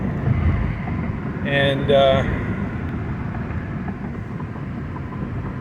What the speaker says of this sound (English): Okay, so now I'm driving in the car,